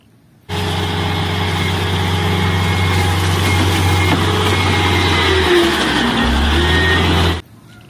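A motor grader engine runs at a steady, deep idle for about seven seconds, starting and stopping abruptly, loud and close with no talk over it.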